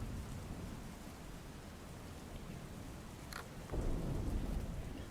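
Heavy night rain pours steadily in Chuda, Surendranagar, a dense continuous wash of noise with a brief crackle midway and a low rumble of thunder swelling toward the end.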